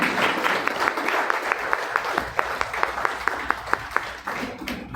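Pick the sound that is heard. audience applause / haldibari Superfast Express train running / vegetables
audience applause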